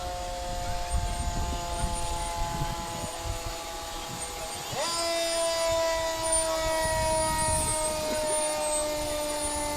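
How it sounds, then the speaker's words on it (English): A fire engine siren at a street parade wails loudly and steadily, its pitch sliding down midway through, over a rumble of traffic and crowd noise. "you can continue to hear the sounds of the fire department"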